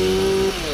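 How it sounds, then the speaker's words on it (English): A powered hedge trimmer cuts steadily while a large conifer is being shaped, a loud close motor whine that holds level, then drops in pitch and load as the blades ease off. "And kind of swing your trimmer down like that."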